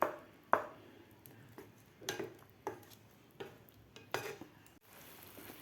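Thick banana pak stirred and mixed in a pan, a spoon giving a series of separate scrapes and metallic knocks against the pan, each a short clink with quiet gaps between, close and soft, no talking.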